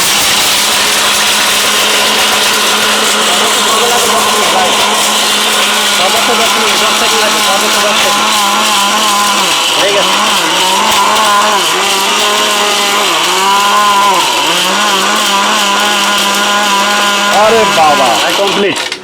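A powerful robot blender grinds brick into powder with a loud, steady high-speed motor whine that sags in pitch under load several times. A voice talks over it throughout.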